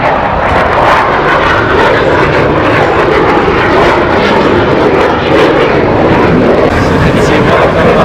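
A fighter jet's engine roars at the Dubai Airshow, a loud, continuous broadband rumble that stays close and steady throughout, with no clear talk over it.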